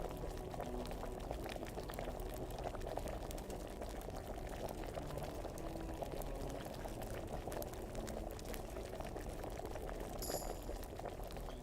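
Wine boils in a pot in Kingdom Come: Deliverance, a steady bubbling simmer that runs for the whole stretch at an even level, with a faint brief clink near the end.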